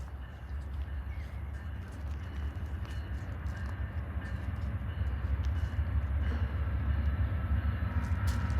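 The Amtrak 6 California Zephyr approaches on the Union Pacific Roseville Sub, a low rumble building steadily louder. Faint bird calls and wind noise sit over it.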